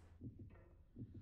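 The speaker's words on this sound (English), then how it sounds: "Can hear heartbeat happening." Slow muffled heartbeat in Little Nightmares, two soft paired thumps that repeat after a pause, faint and low with no talking.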